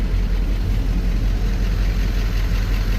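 A Chevrolet Impala's engine idles steadily and close by, a continuous low rumble with no revving and no talk over it.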